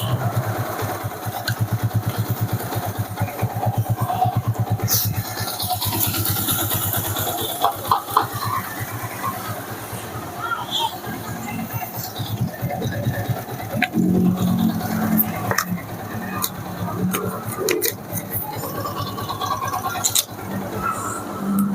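Yamaha Vixion motorcycle with a fault that makes it stall runs at an uneven, throbbing idle close by, the engine sound wavering and dropping away with gaps, under occasional talk and handling clatter.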